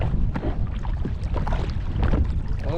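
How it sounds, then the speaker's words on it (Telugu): Strong wind buffets the microphone on open water during a fishing boat trip, a loud, rough, continuous roar with gusting surges and splashy rumble, no voices. "గాలి మాత్రం బాగా లేచింది ఫ్రెండ్స్."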